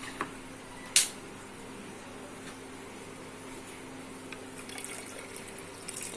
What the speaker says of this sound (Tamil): தேங்காய் பால் ஆட் பண்ண போகிறோம்.